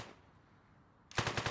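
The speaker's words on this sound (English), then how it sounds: "I'm getting shot at." Automatic gunfire aimed at the player during a bank robbery in a one-armed robber game, a loud close burst of rapid shots that cuts in after a second of near quiet.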